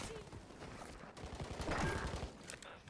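Gunfire in the shooter game Rebirth, a dense burst of shots cracking close and loud, with game noise and a voice talking underneath.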